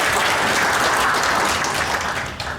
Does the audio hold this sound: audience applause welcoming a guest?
yes